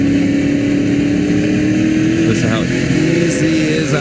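A race car on a dirt oval at Sharon Speedway runs on light throttle, its engine a steady droning hum with a faint waver in pitch as it rolls through the turn, loud and continuous, with commentary audible over it.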